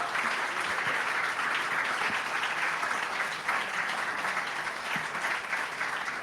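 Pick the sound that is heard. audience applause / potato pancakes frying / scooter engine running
audience applause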